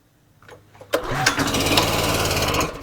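A gasoline pressure washer engine is pulled a few times, catches with a sharp burst, and settles into a loud, steady running chug close by.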